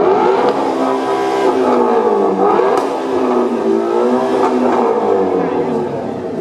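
A car's exhaust is revved hard at a Cool City car show exhaust rapping contest, the engine note rising and falling in loud, continuous swells for several seconds, with faint crowd voices beneath.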